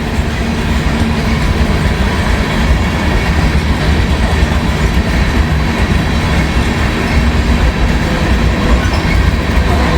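A Norfolk Southern freight train picks up speed on a CSX line, its steady broadband rumble and rattle continuous and loud throughout, with no voices.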